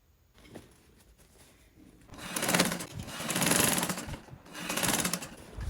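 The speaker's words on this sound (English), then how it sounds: "then sew again with 1/4-inch seam allowance" Sewing machine stitching the side seams of a fabric bag, starting with a few quiet clicks and handling noises before running in three bursts of fast, close whirring.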